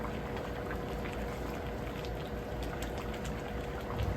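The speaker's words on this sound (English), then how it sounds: "You want to make sure that it's properly boiling" A dense, steady bubbling and churning of Haitian bouillon soup at a rolling boil in a pot, continuous and fairly quiet, with no voices.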